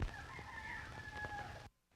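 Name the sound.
rooster crowing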